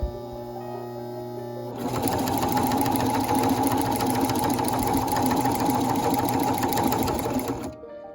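A sewing machine runs along the turned edge of a Regency corset in one continuous, rapid, close-up stitching burst lasting about six seconds, then cuts off.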